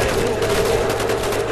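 Rapid continuous gunfire in Black Ops zombies, a loud unbroken burst of automatic shots lasting the whole moment, heard up close without talk.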